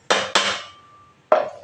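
Ground almond and peanut mix is scraped from a metal container onto a plate for jaggery peanut ladoos, giving three sharp clattering knocks of utensil on metal with short ringing gaps between them.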